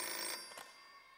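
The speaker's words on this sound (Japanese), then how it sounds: "ねえねえ、電話鳴ってますよ。" A telephone ringing during a live concert, one short ring burst and a second fainter trill, heard alone in a quiet moment.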